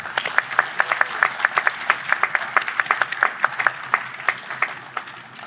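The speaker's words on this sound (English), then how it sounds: "Let's give another round of applause for a very special honorary degree recipient, the Honorable Justice Edwin Cameron." Audience applause at a law school commencement ceremony, with steady clapping from a sizeable crowd and distinct individual claps standing out, continuing at an even level for several seconds before tapering slightly at the end.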